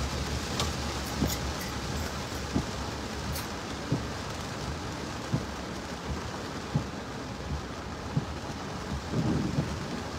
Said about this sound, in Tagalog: May kulog dito, ah.